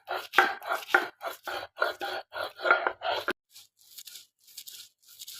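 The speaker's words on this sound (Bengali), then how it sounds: "এই যে দেখেন আমি মলয়া মাছগুলা বেটে নিতে আসছি শিলপাটায়।" Mola fish are ground on a stone shil-pata slab in rhythmic, close, gritty strokes, about a dozen rubbing scrapes that turn softer and fainter toward the end.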